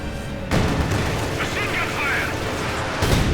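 A rocket explodes in Company of Heroes 2 during a 1v1 match, a sudden booming blast with rumbling battle noise under a caster's excited commentary.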